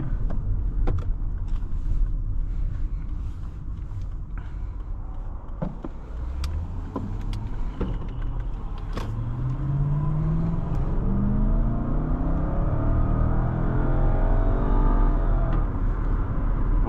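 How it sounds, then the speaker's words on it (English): The V8 engine of a 2013 Lexus LS 460 rumbles and then accelerates, its deep note rising steadily in pitch as it revs up, heard from inside the car. "that V8 sounds fantastic, and the acceleration is really nice"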